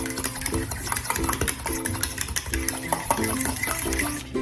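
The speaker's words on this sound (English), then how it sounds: "Let me go ahead and beat this egg really quick" An egg is beaten quickly in a bowl for banana nut bread, giving rapid, steady whisking and tapping against the bowl, close and fairly loud over a low background hum.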